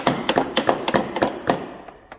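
Repeated hammer blows drive a seal into a snowmobile chaincase with a race installer cup on a 2014 1100 Turbo, about eight sharp close taps in an uneven rhythm, the last few lighter and fading.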